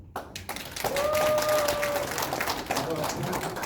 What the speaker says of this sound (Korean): 동의하신 박수 한번